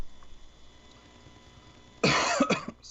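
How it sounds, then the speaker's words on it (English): A single sharp cough, near and fairly loud, bursts out after a stretch of quiet room tone, with a quick second hack right behind it. "I had a cough."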